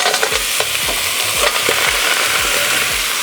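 Clams tipped into a hot pan of aromatics sizzle loudly and close, with a burst of crackling and several rattling clatters of shells knocking against the pan as they are stirred.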